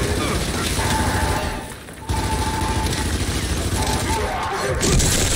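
A flashbang grenade goes off in Gears 5 multiplayer, a harsh, sustained crash of noise amid continuous gunfire and loud game effects, with a brief dip before the din resumes and a player talking over it.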